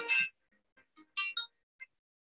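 A phone ringtone goes off in the middle of a lecture on nutrition and cancer: a few short, bright melodic chirps in quick succession, fairly clear in a quiet room, then silence.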